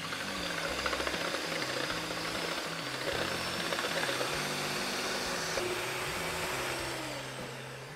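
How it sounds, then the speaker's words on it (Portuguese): An electric mixer whips egg whites to stiff peaks with a loud, steady whirring drone that wavers slightly in pitch throughout, while a person talks over it. "bater essas claras em neve em ponto bem firme, tá? Vou utilizar a batedeira."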